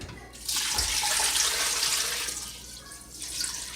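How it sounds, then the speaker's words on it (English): Water pours steadily into a cooking pot of collard greens being prepared with smoked meat, a continuous splashing rush lasting a few seconds with no talking. "And I'm going to add some water."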